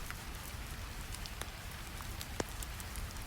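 Steady soft rain pattering on a surface, an even wash of drops with a few sharper ticks, continuous and fairly faint with no voices.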